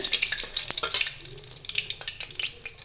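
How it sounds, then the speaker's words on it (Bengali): Dried red chillies and star anise sizzle in hot oil in a pan, a steady close crackle with light stirring scrapes and small pops. "প্রথমে শুকনো লঙ্কা আর স্টার দিয়ে দিলাম, একটু নেড়ে নেব।"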